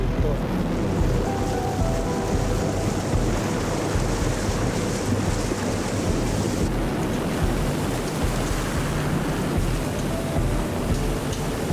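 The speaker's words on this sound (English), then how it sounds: "The sea is rough today." Steady, heavy roar of rough sea water and surf, a continuous loud wash with no pauses.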